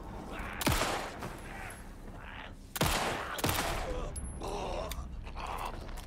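Gunfire in the video game Alan Wake 2: several loud, sharp shots ring out at irregular intervals, a pair close together near the middle, with mechanical clicks and rumbling ambience between them.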